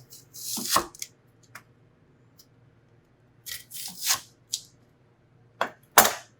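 A knife slices vegetables into rounds on a board for fish moqueca, producing scattered crisp cuts in short clusters separated by quiet pauses, close and alone.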